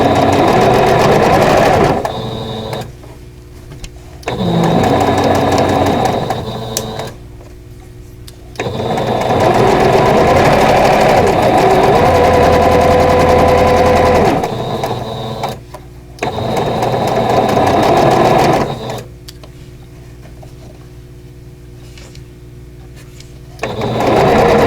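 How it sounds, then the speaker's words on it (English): A sewing machine stitches quilt block pieces together in long, steady runs of rapid mechanical whirring, close and loud, broken by short pauses where the fabric is repositioned. "And match up the ends, and we're going to sew."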